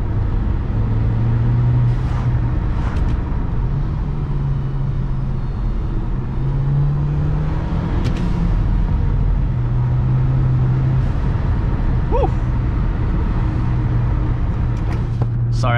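Audi A4 B7 2.0T with an APR stage 1 tune heard from inside while driving, a steady loud engine drone and road roar throughout with shifting pitch as it pulls and changes gear, no talking.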